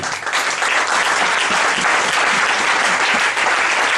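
A church congregation applauds and cheers loudly, a dense, continuous wash of clapping that fills the whole stretch without a break.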